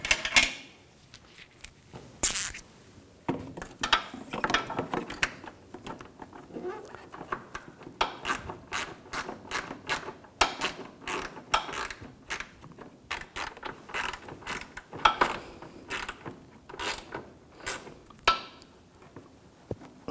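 A bolt being tightened on the washer fluid reservoir of a 2011-2018 Volkswagen Jetta TDI wagon, irregular close ratchet clicks and metallic taps with quiet pauses between bursts.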